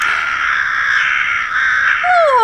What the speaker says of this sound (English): Oh no, those are the calling birds.